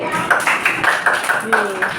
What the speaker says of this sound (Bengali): বাহ খুব জোরে একটা তালি হবে